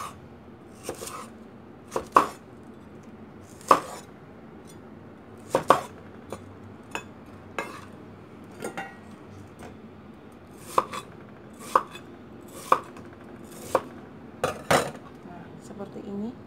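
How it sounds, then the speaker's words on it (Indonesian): A knife chops bitter melon into rectangular pieces on a cutting board, sharp irregular knocks spaced a second or so apart, close and clear against a quiet room. "Kalau saya potong persegi panjang"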